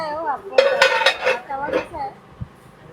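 Old copper and brass pots and pans clink and clatter in a quick run of sharp knocks, with a voice faintly in the background.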